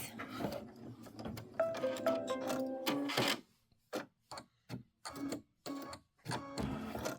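A sewing machine stitches a quarter inch seam on a pieced quilt block, whirring in a steady run for about three seconds, then pausing and restarting in several short bursts, close and fairly quiet.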